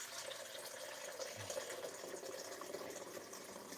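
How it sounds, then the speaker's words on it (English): Water runs steadily into a coffee maker for French press coffee, a continuous faucet-like hiss and rush that holds a constant level throughout. "and then we fill this up with water."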